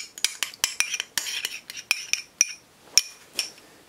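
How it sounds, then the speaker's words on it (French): A utensil strikes the side of a mixing bowl while cake batter with vanilla is stirred, producing a rapid, irregular run of bright ringing clinks, close and fairly loud, with no talk. "On va pouvoir y ajouter la vanille. Et ensuite, on mélange."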